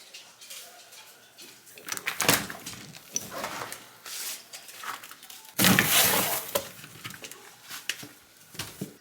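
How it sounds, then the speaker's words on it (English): A doggy door flaps open and shut at home, a series of irregular knocks and swishing bangs, fairly close, with one louder clatter near the middle. "Love this doggy door."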